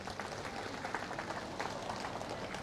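Applause from a church congregation at an Indonesian Christian gathering, a dense, steady wash of many hands clapping at moderate level, continuous from start to finish without talk.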